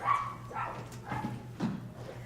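A dog barks several short, yappy times on stage during a middle school production of The Wizard of Oz Jr. The barks are moderately close over a low hum in the hall.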